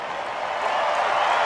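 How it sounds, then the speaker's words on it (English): Dodgers baseball crowd in the stands lets out a brief, broad roar of cheering that swells slightly in a short burst. "The crowd is cheering."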